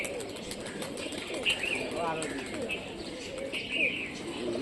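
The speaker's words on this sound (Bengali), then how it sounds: "বসে গেল কবুতরটা" A local contest pigeon in Rajshahi flaps its wings as it lands, with brief bursts of fluttering over faint coos and chirps. A noisy outdoor background with distant voices runs beneath it.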